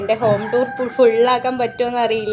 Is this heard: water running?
no